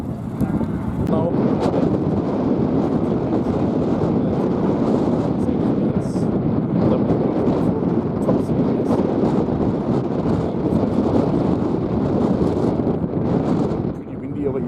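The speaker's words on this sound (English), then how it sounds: "pretty windy over here" Strong wind buffets the microphone outdoors at a classic car gathering at a museum in Stuttgart, a loud continuous roar and rumble that runs unbroken for the whole stretch.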